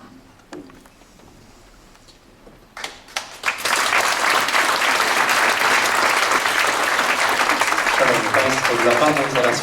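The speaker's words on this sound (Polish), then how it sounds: "Gorące brawa" Warm applause from an audience at a business school's academic year inauguration ceremony in Cieszyn, starting as scattered claps and swelling into loud, sustained clapping that fills the hall.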